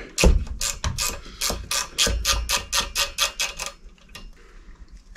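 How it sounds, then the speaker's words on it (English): An 11mm ratchet spanner clicks in a fast run of about fifteen sharp ratchet clicks while loosening nuts on a Land Rover Defender drag link, close and loud, easing off toward the end. "So I'm going to need an 11mm ratchet spanner for this."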